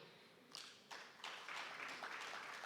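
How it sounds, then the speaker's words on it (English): Audience at an agriculture dialogue conference hall beginning to clap, a few scattered isolated claps first, then swelling into sustained applause from a distant crowd, faint overall. "No, please don't clap like this"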